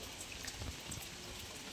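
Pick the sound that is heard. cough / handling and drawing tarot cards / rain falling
rain falling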